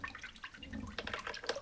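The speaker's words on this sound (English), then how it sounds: "We'll rinse it in some water." A silvery metal ring is rinsed in a bowl of water, with faint close splashing and dripping in quick irregular bursts.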